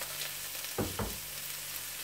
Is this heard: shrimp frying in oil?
yes